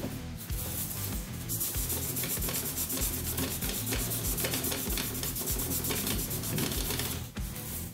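Continuous rubbing and scrubbing over guitar frets to clean them after polishing, a dense close rasping friction with a fast back-and-forth rhythm, alone and loud, easing briefly near the end.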